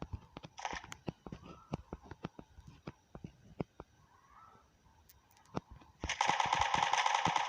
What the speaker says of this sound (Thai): ไปยิงกันละนี่ไง